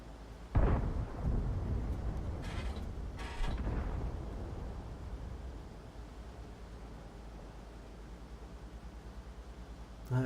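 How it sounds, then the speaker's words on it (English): Artillery shells land in a tank video game, with a sharp heavy boom followed by rolling rumbles and a couple of further muffled impacts that fade into low background noise. "you can see Arty shells landing on the enemy"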